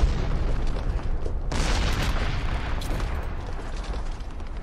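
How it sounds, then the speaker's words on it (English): Heavy explosions in the Minecraft modpack Absurd Craft: a loud booming blast hits about a second and a half in, over continuous rumbling bursts that keep going to the end with no talking. "the explosion sounds, like all the sounds are definitely changed"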